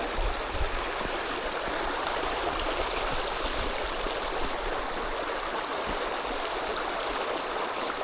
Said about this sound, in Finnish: kuuntelemaan pelkkää solinaa.